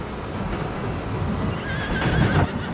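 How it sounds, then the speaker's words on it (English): Horse whinnies in Farming Simulator 25 over a steady ambient bed, a rising high neigh drawn out near the middle and end, with faint hoof clip-clop and a rain-like wash behind it, no talking. "There's a horse."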